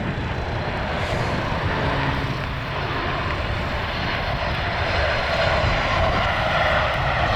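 A United Boeing 737 MAX 8 airliner arriving from Cleveland Hopkins produces a continuous broad jet-engine roar that stays loud and steady throughout.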